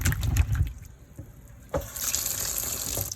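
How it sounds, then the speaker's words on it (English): Water splashes and runs as dasheen pieces are rinsed for a second wash, with a few close sloshes at first, then a steady stream of running water from a tap. "This is the second wash for the dasheen."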